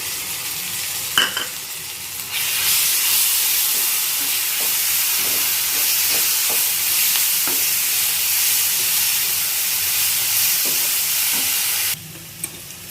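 Ginger garlic paste dropped onto fried onions in a hot pan flares into a loud, steady hiss that holds evenly for about ten seconds before cutting back to a quieter simmer, with faint stirring taps and no talk.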